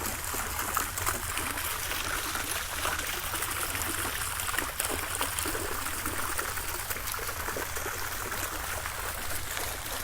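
Water flows steadily from fountains at Magdala, a constant broadband splashing and trickling wash close by, with no talk over it.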